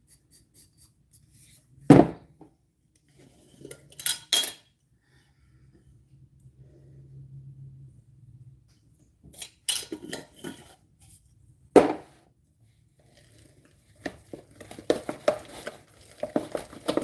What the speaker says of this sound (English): Just finishing stirring it up.